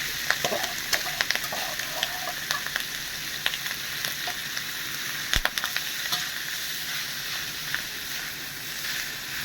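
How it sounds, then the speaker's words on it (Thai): Minced pork dry-roasting for Lanna-style larb in a pan gives a continuous close sizzle and crackle, broken by frequent spatula scrapes and stirring clicks, with no talking. "อันนี้เราทำลาบหมูกินกัน แต่เราต้องคั่วกันนะครับ"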